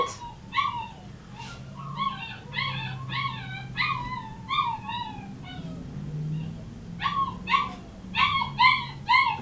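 A poodle puppy gives repeated high-pitched whimpers and yips in short bursts, close by, during obedience training, with a low voice murmuring underneath.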